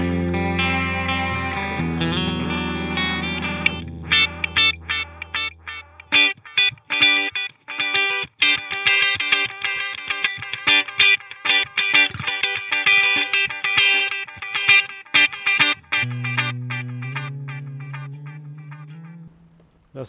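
An electric guitar runs through a Mooer Reecho delay pedal, sustained chords giving way to rapid picked notes whose repeats trail and smear into one another, loud and up close with no talking.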